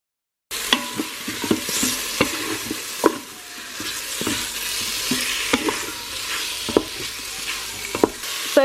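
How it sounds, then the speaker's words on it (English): Meat browning in olive oil inside an Instant Pot, a steady close sizzle with scattered sharp clicks and scrapes of stirring throughout. "I'm just going to brown off this meat."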